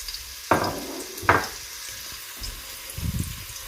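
Cooking oil frying in a pan for dhaba-style aloo keema, with two sharp sizzling bursts close by followed by a softer, quieter crackle and faint stirring, no talking.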